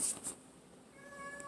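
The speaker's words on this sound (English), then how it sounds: "And that's my cat crying in the background," A pet cat cries out with a few short, faint meows in the background of a quiet room, the calls rising and falling over just over a second.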